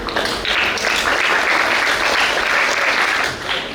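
An audience applauds a lecturer at a talk, a dense, steady burst of many hands clapping together for a few seconds before tapering off.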